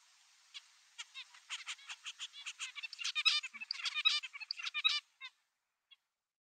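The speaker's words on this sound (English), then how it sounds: "You will also hear the birds singing." Zebra finch song in a quiet lab recording: a rapid series of short, buzzy and chirpy notes repeated in motifs, building for several seconds before trailing off into silence with one last faint note.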